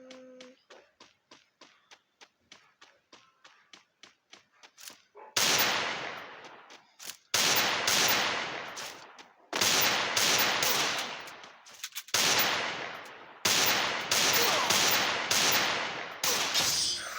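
Gunfire in a shooting video game: a rapid string of light shots gives way to loud, heavy bursts of automatic fire repeating every second or two, close and dominant, with no talk over it.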